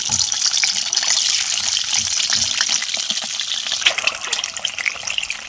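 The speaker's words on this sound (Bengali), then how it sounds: "তো ডিমগুলো ভেজে নেব আমরা।" Peeled boiled eggs fry in oil in a kadai, giving a steady, close, bright sizzle and hiss that runs throughout with small crackling pops and no talk.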